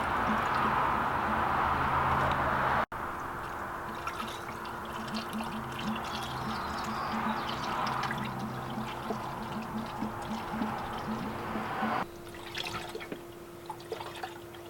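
Coolant pours and trickles steadily into the cooling system of an R52 during bleeding, close and continuous, with a brief break and a shift in the flow partway through.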